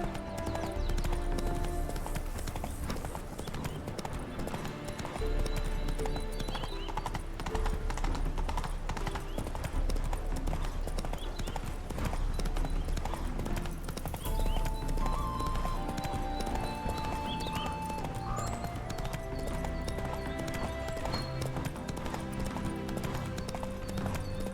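Horse hooves clip-clopping steadily in the video game The Witcher 3, a continuous rhythmic trot under game music and ambience, moderately loud throughout.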